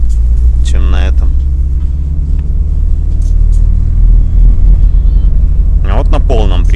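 A UAZ Patriot SUV driving in four-wheel drive on deep snow gives a steady, deep engine and road rumble inside the cabin, with voices speaking briefly at the start and end.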